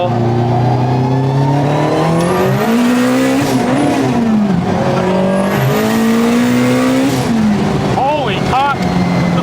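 A Honda Civic Type R on 225/40 Nankang tires revs hard with the tires spinning and squealing, finding no grip during a street launch; the engine note rises and falls loudly and continuously while people talk over it.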